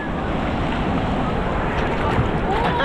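Ocean waves wash continuously at Casapsapan beach, a dense steady roar of surf mixed with wind buffeting the microphone.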